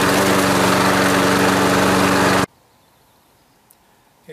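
A lawn mower engine runs loud and steady at close range, then cuts off abruptly, leaving near silence broken by a couple of faint clicks.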